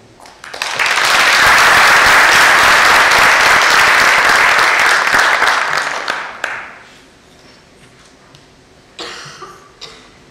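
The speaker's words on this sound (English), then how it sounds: "give an intimate applause to Professor Abou-al-Haj" An auditorium audience applauds to welcome a professor onto a talk stage, a dense, loud burst of clapping lasting about six seconds before trailing off, followed by a few scattered coughs and a brief later patter of sound.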